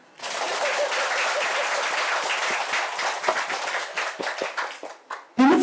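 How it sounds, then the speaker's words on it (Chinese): A lecture audience bursts into loud, sustained clapping that holds steady for several seconds, then thins into scattered claps before stopping. "鼓掌。"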